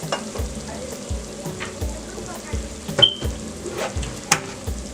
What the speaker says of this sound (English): Stir that in, stir it in just like that.